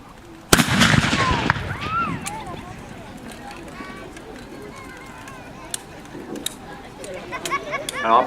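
A single gunshot from a hackbutt, an early arquebus fired at a medieval reenactment, a sudden loud close blast with a brief rumbling tail, followed by quieter outdoor ambience, scattered clicks and faint voices.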